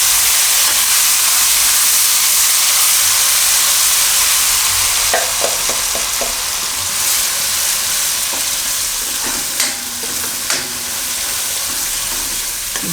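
Prepared gravy hisses and bubbles loudly in a hot pan for Methi Makkai Malai, a dense continuous sizzle with a few sharp clinks of a spoon near the end, close up and without talk.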